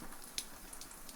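Rain falling outside old stone walls, soft scattered droplet ticks over a faint steady patter, quiet and close.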